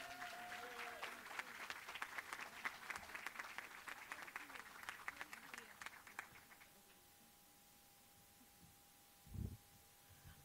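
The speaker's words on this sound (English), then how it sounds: "let's give our psych nurse practitioner students another round of applause" An audience at a nursing school white coat ceremony applauds psych nurse practitioner students. The clapping is moderately dense and fades out after about six seconds, leaving a faint tone in a quiet room and one brief thump near the end.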